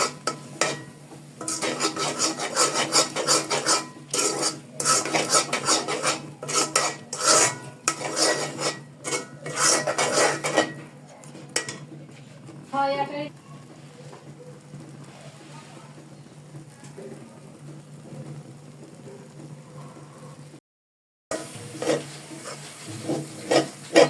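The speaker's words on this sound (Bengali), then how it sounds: "চিনি দেওয়ার পরে ভালো করে আবার নেড়ে দেবো।" Chickpea lentil halwa stirred in a pan with sugar, giving steady rough scraping and rubbing strokes of a spatula against the pan, loud and rhythmic at first, then quieter and sparser toward the end, with no talk.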